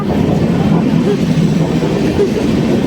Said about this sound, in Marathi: चला आमची ट्रेन आली आम्ही चाललो